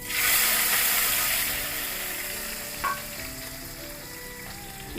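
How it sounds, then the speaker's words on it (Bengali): Bay leaf, dried chilli, ginger, green chilli and tomato hit hot oil, giving a loud, steady sizzle that softens slightly after the first second, with a few light clinks from stirring. "এই তেলের মধ্যে দিয়ে দিব তেজপাতা, শুকনো মরিচ, আদা কুচি, কাঁচা লঙ্কা, টমেটো।"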